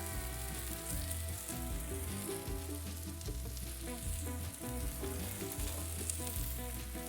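Asian-style duck with peanuts and leaves stir-fries on an Onyx 4S grill, giving a loud, continuous close sizzle with crackling spatters.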